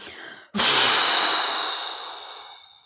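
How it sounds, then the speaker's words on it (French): During a sophrology relaxation exercise, a held breath is released in one long, forceful exhale that starts abruptly and slowly fades away, close and alone. "Retiens ta respiration et contracte légèrement le bassin, les muscles fessiers, les jambes et les pieds et souffle pour chasser toutes les tensions inutiles."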